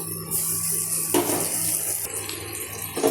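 Chopped tomatoes hit a pan of fried onions for a Bombay duck fish dish, giving a loud, steady sizzling hiss that swells for about three seconds with no voices.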